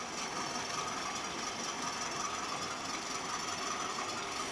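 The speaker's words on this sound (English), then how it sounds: "You'll just be able to see the coal train going through" A model railway coal train runs along a layout in a steady, faint rolling whir with a continuous hiss and no speech.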